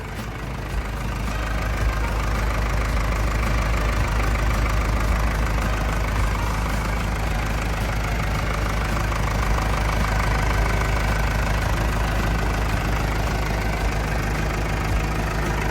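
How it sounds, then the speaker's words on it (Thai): The turbo diesel engine of a Komatsu WA100-5 wheel loader idles close by, a loud, steady, throbbing rumble with a rough knocking edge that never lets up. "เดี๋ยวเปิดเครื่องยนต์ให้ดูนะครับ"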